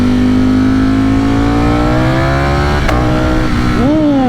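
A Ducati Streetfighter V4S motorcycle with a quick shifter revs hard on a twisty mountain road, its loud engine note climbing steadily before one sharp upshift cuts in and the revs drop and rise again, close and continuous.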